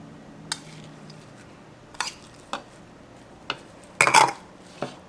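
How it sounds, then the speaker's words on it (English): Thai larb tofu salad with cilantro and mint being mixed in a bowl, a few sparse clinks and soft scrapes of utensil against dish at irregular intervals, close and fairly quiet. "then mix everything together. Put cilantro and mint."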